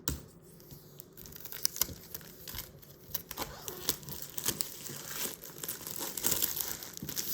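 Cardboard and plastic packaging crinkles and tears as the opening tab is pulled on an iPad Air 4th generation box, with continuous close, papery rustling and crackling that grows louder toward the end.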